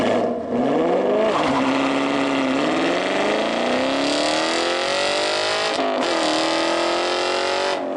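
A 2016 Ford Mustang GT with a 5-liter Coyote V8 revs loudly and steadily, its slightly muffled engine note climbing in pitch over several seconds, dipping briefly, then rising again, with no talking.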